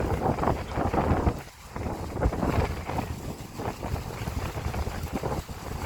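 Strong wind blowing outdoors as the weather turns to rain, loud gusty buffeting and rumbling against the microphone in uneven surges, with no talking.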